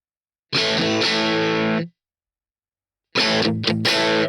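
Electric guitar played through a tube amp into a Two Notes Captor X load box, sounding as two loud distorted chord bursts, the first held over a second, then a gap of silence and a second stuttering strum.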